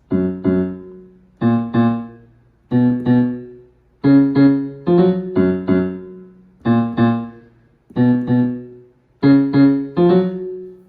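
A piano plays a repeating bass figure of short, evenly spaced phrases, each note ringing then decaying, alone and moderately loud.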